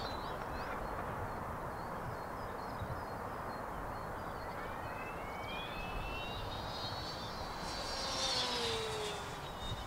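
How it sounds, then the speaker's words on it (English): A light airplane glides in to land from a long way out, its engine a steady low drone with wind rush, growing slightly louder near the end, with faint birdsong in the distance. "How the hell am I going to get this down, Dom? Well, let it glide"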